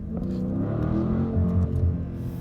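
A Dodge Charger Scat Pack engine revving and shifting up, a close throaty rumble that rises and briefly dips, heard from inside the car with no talking.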